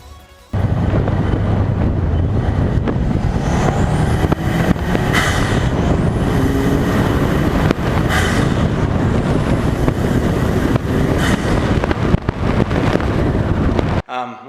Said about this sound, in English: now we're going to get some driving videos of this